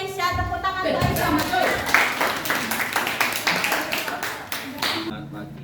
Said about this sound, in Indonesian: Tepuk tangan untuk Aisyah.